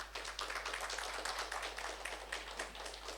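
An audience at a special general meeting applauds, a dense, steady wash of many hands clapping at moderate distance for about three seconds, with no talk over it.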